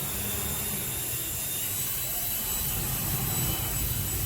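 A helicopter or aircraft engine roars steadily overhead, a loud continuous whine and rumble with no letup for the whole stretch.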